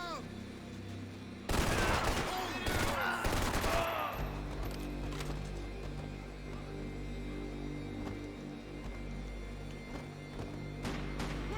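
Gunfire in the Max Payne 3 video game comes as a loud burst of rapid shots near the start, then trails into a quieter rumbling game background with a few distant pops.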